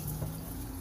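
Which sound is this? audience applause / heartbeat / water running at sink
water running at sink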